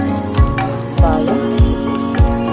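Oil sizzles steadily in a pan as a tempering for pappu fries until it turns red, with repeated spoon scrapes and stirs recurring at a regular rhythm, close and loud.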